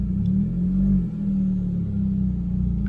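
A Fiat Panda 100HP rolling slowly in first gear, its engine giving a steady, close low rumble with a slight dip midway, heard alone without talk.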